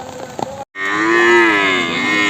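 A buffalo lets out a long, loud, close moo at the Erragadda buffalo market on a rainy day, following a short burst of background noise and a brief pause.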